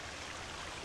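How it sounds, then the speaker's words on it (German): Steady broadband rush of flowing water inside a cave in the video game The Forest, loud and continuous with no distinct drops or breaks over the brief moment. "jetzt wird's zu laut mit dem Wasser"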